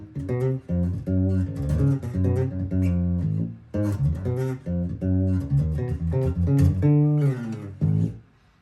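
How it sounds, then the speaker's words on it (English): A clean bass guitar plays a steady run of plucked notes with a warm, round low tone, pausing briefly midway before continuing. "I've got a clean tone that sounds something like this."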